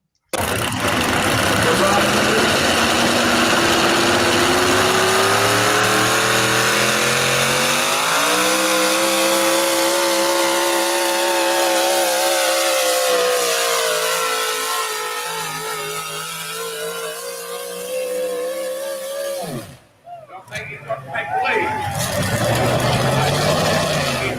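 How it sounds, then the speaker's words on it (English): A drag-racing car's engine revs hard off the starting line, its loud, steady roar climbing in pitch for several seconds before easing off. It cuts out sharply near the end, then surges back briefly. "What kind of RPMs are you leaving the starting line?"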